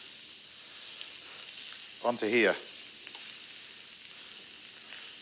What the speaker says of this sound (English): And a frying pan, super hot before you put the squid on.